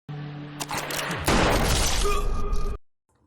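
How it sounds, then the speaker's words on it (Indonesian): Gunshot in a gangster film, a sharp crack and shattering burst that rings briefly before cutting off into silence, loud and close. "Lalu Alius menembak Jogi, Jogi pun habis."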